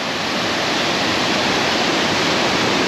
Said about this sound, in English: the waterfall coming down